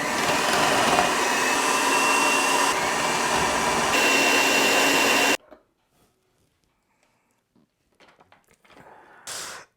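A food processor fitted with a chopping blade runs loud and steady on onions for about five seconds, then stops abruptly, leaving a few faint clicks and handling noises afterward.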